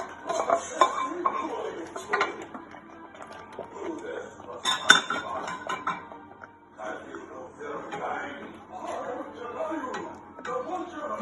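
Utensil stirring tarka into tarka dhal in a cooking pot, with repeated clinks and scrapes against the pot in an uneven rhythm, close and moderately loud, with no talk.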